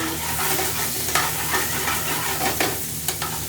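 Onions frying gently in a pan for chicken tikka balti, a continuous close sizzle punctuated by a few clicking stirs and scrapes of a utensil, with no speech over it.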